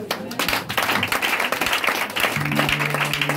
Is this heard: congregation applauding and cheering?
yes